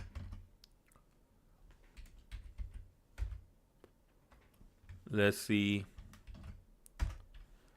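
Computer keyboard typing in soft, irregular bursts of clicks throughout, with a louder stretch of speech partway through and brief talk near the start.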